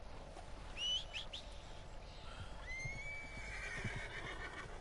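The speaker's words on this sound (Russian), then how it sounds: "Куда тебя несет дурная лошадь?" A horse in Red Dead Redemption 2 whinnies, a short call followed by a longer one, faint over soft hooves and outdoor ambience with occasional birds.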